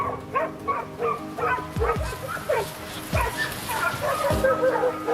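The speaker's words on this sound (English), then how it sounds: "In a split second, the bark of a hunting dog pierces the silence." A hunting dog barks and yips repeatedly in short, loud bursts, close by, with a whimpering edge between barks over steady background noise.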